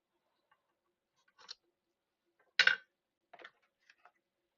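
Scissors cutting craft material for a handmade no-sew Easter basket, a few short, dry snips spaced apart in a quiet room, with one louder cut in the middle.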